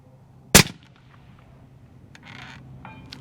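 A single sharp rifle shot cracks out loudly near the start, followed by quiet and a faint distant metallic ping of the bullet striking a steel target, with some light rustling afterward.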